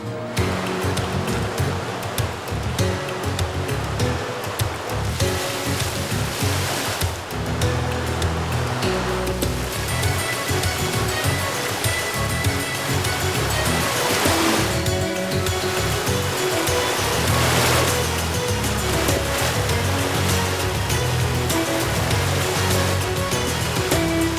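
The Machias River in Maine flows calm and steady, a continuous broadband rush of moving water that holds at a fairly loud, even level throughout with no voices.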